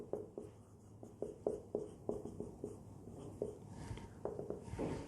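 Pen writing numbers on paper while working an arithmetic progression problem, a series of close, faint scratching strokes and taps in an irregular rhythm, with no talk.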